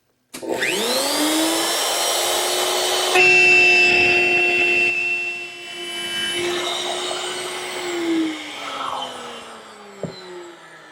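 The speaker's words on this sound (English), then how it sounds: "To make that groove, I've set up my router table with a 1/4 inch spiral bit." A router table with a 1/4 inch spiral bit cuts a groove between mortises in wood for a Mission style desk. The motor spins up with a rising whine, then holds a loud steady high drone while the bit cuts, the pitch shifting slightly before a brief clunk near the end.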